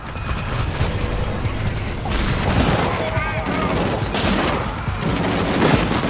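Rapid bursts of gunfire from the shooter game Killzone Shadow Fall, loud and dense with mechanical clatter and booms throughout, over in-game ambience.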